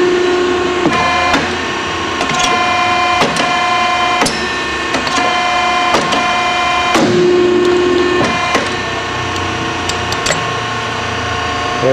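An RCP 8500 BCL 3 tube expanding and beading machine forms a small tube part, giving a steady loud mechanical drone with sustained tones and repeated sharp clanks and knocks at irregular intervals.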